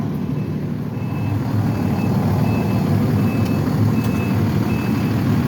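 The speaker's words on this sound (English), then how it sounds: "The truck's on the back up shortly." A Boston fire truck backs up in West Roxbury, its reversing beeper sounding steady evenly spaced beeps over a loud, rumbling diesel idle.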